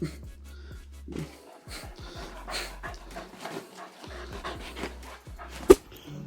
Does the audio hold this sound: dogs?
yes